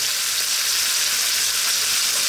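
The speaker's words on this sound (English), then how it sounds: "We're also now going to add the garlic ginger paste, like a nice tablespoonful." Garlic ginger paste fries in a pan for fish curry, giving a loud, steady, close sizzling hiss with no break and no voices.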